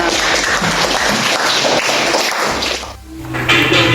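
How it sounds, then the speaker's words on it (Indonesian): A school class bursts into applause, loud close clapping with some sharp slaps and thumps, briefly dipping near the end before picking back up. "Beri tepuk tangan."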